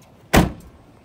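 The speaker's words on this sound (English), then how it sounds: "it's got remote trunk access. So let's pop that open" A 2017 Dodge Charger's remote trunk release pops open with one short, sharp mechanical thunk, close and clear, followed by a faint settling rattle.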